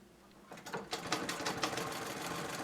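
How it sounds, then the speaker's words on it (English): A Singer 66 treadle sewing machine starts up after a brief quiet moment and runs steadily, a quick rapid chatter of needle strokes free-motion quilting fabric, fairly close and alone without talk. "So this is the Singer 66 Treadle machine"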